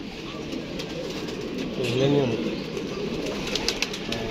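A pet pigeon recovering from an injury gives a single soft coo over a steady noisy background, with a person talking close by.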